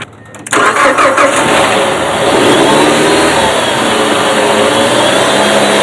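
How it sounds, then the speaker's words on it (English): A car engine cranks briefly and catches after an electrical test with a test light, then settles into a loud, steady running roar close by. "You should be able to start this car now. Go ahead and see if it starts."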